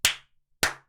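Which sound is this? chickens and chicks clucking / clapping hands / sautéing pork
clapping hands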